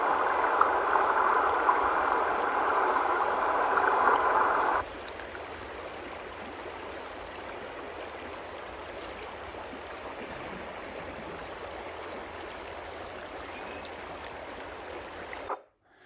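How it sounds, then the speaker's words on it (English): Flood water pours over the top of a road like a weir, a steady broadband rush of flowing water that stays constant and fairly close, louder at first, then softer and even, with no talking. "the water's flowing over the top of the road, so it's forming like a weir"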